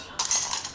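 A rusted metal potato masher clinks briefly against other kitchen utensils, giving a short, close metallic rattle with no talk over it.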